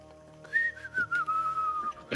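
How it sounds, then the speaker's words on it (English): A person whistles an impromptu, wavering melody in a room, a few short rising and falling notes with gaps between, fairly close and clear with no talking. "Just impromptu whistling"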